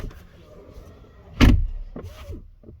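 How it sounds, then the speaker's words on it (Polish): A 2022 BMW iX car door shuts with a single solid thud, followed by a quieter click and faint mechanical rattles, close by with no one talking. "sam odgłos zamykanych drzwi"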